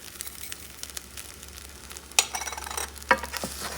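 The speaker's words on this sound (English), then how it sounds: "Give it another stir." Beef stir fry with fennel seeds sizzles gently in a pan over low heat. A soft, steady fry carries a low hum beneath it, and two sharp utensil clinks and scraping stir strokes come through near the end.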